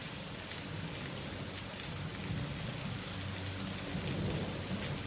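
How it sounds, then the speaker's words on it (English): Thunderstorm with steady heavy rain hissing on surfaces, a dense continuous wash with low rumbling beneath, no voices. "Hear the thunder getting closer and closer."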